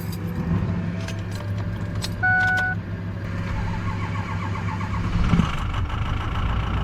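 A Ford Ranger fitted with a 6.0 engine cranks and catches after some keys jingle and brief clatter, then settles into a steady, rumbling idle close by, with a faint tonal whine partway through.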